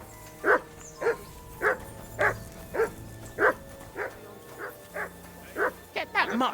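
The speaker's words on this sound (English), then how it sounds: "Whistle at that mutt of yours to stop barking." A dog in Kingdom Come Deliverance 2 barks in a steady, evenly spaced series of about a dozen sharp woofs, a few quickening at the end, over quiet game ambience.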